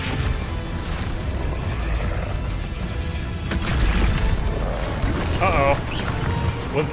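An Expulso spell goes off in a Harry Potter video game as a booming blast with rumbling debris and a brief shimmering magical tone, mixed with a player's voice.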